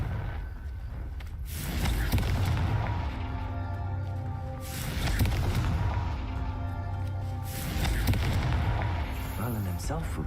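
Confringo blasting spell from Hogwarts Legacy, three booming explosive bursts spaced a few seconds apart, each swelling and fading, with game sound and some voice underneath.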